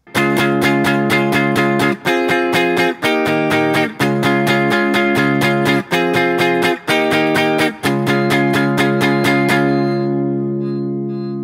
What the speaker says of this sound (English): We're just not palm muting anymore. It sounds like this.